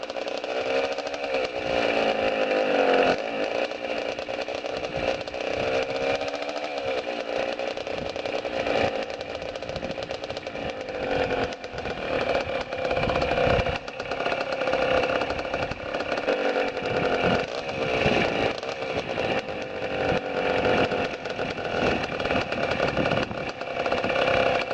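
A Honda CR80 dirt bike's two-stroke engine runs steadily at idle after a kick-start, a loud, close, buzzing drone with a rattly edge that holds throughout with slight fluctuations.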